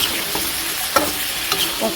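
A steady sizzle of spices frying in a pan, with a few scraping stirs of a utensil at intervals, close and moderately loud, no voices.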